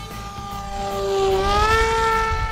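A Banana Hobby Sky Surfer PRO 1600mm RC airplane flies overhead, its electric motor and propeller giving a steady buzzing whine that rises in pitch and grows louder as it passes, with faint wind in the background.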